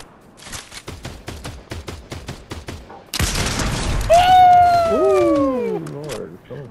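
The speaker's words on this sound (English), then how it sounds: "Damn. Shooting at us." Rapid, evenly spaced video game gunshots ring out close for about three seconds, followed by a louder rolling burst with a rising and falling electronic whine.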